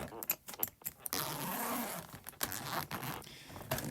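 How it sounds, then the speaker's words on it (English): A zipper is drawn open on a soft audio equipment bag with two zippers, a close, raspy run broken by small clicks and jangles of the pull and hardware, with no voices. "So anyway, let's open up the bag."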